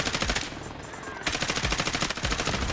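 Automatic rifle fire in the Delta Force shooter game, loud and close, with rapid rhythmic bursts that pause briefly near the one-second mark and then resume steady and continuous.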